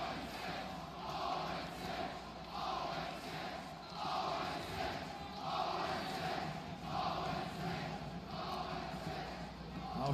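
A large esports crowd at a Winners Bracket Final roars and cheers in rolling swells, distant and muffled under a steady arena hum.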